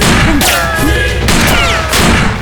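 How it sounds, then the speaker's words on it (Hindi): Loud, close bursts of rapid gunfire rattle on continuously, with swooping tones cutting through and a few faint voices buried underneath. "चलो गोलियां बरसाओ।"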